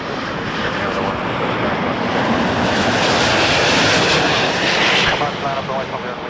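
An Air Canada airliner takes off from runway 05 at Toronto Pearson, its engines a loud, steady roar that holds throughout and eases slightly near the end, with radio chatter faintly beneath.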